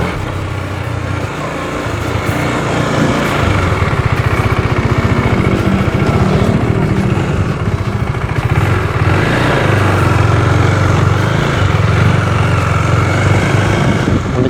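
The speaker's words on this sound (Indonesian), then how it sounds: "jambakannya terasa khas motor 1 silinder" A 2021 KTM Duke 200 or Duke 250 single-cylinder motorcycle engine runs loud and close, a steady throbbing rumble that holds for the full length with no talking.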